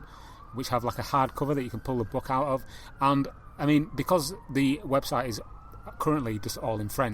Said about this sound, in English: I again apologise for the sirens in the background.